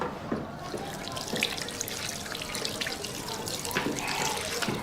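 Water runs steadily from a tap as hands are washed at a sink, a continuous splashing hiss with small drips and bursts throughout, fairly close.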